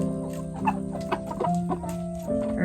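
Backyard chickens cluck in a garden, a few short calls rising above a steady background hum across the brief stretch, with no talk.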